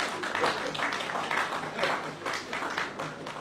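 Graduation ceremony audience at the University of the West Indies breaks into a round of applause: many hands clapping in uneven waves, moderately loud in a large hall, with a voice faintly mixed in.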